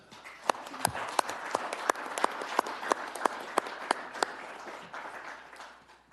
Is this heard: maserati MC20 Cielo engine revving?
no